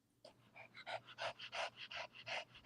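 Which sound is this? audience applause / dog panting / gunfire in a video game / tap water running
dog panting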